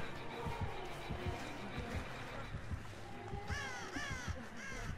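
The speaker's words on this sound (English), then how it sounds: "Fucking crows!" Crows caw in a video game with a quick run of harsh, repeated caws near the end, over a steady hum of game ambience.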